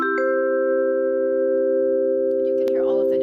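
Vibraphone notes struck with the sustain pedal held down, several bright metallic tones ringing on together and blending into a long sustained chord, with a faint voice starting near the end.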